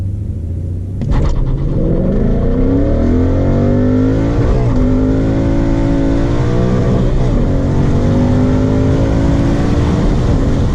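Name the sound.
Ford Mustang with Power Pack 3 launching hard from a stop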